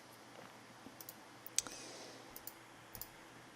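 Soft, dry computer mouse clicks ticking in a quiet room, a dozen or so irregular taps spaced across a few seconds with a faint steady hum beneath and no speech.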